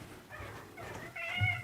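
A pet cat named Lily gives a few soft, drawn-out meows nearby, faint over a quiet room.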